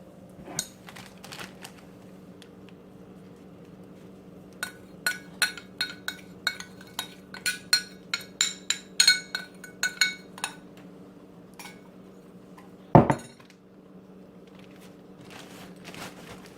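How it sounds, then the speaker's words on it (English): Utensils scraping and clinking against a dish while food is cleared out, a run of quick, light metallic taps and scrapes at close range, ending in one louder knock, with quiet gaps between bursts. "You know I have to scrape all this goodness out."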